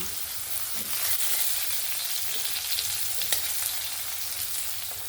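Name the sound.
potatoes and ash gourd frying in oil in a wok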